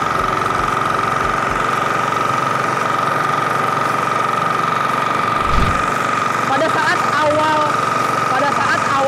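A Maxxi FTL720D grass chopper engine runs steadily while cutting through weeds, a loud close mechanical drone with a constant tonal whine and a brief thump midway, with someone talking over it throughout.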